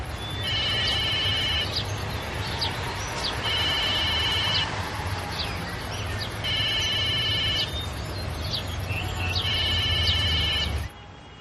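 A telephone rings in repeated electronic bursts, four rings evenly spaced over a steady low hum, before cutting off abruptly near the end.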